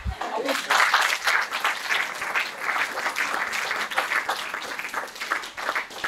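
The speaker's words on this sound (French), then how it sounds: "Ça va avec quelques applaudissements, non?" Audience at a conference on the nourishing city breaks into applause, a full round of clapping that rises quickly, stays strong and slowly thins, with murmuring voices underneath.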